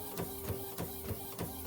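An Epson WF-7720 inkjet printer doing a sublimation print runs quietly, its print head shuttling back and forth in a steady repeating rhythm with soft mechanical clicks.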